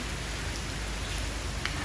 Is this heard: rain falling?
yes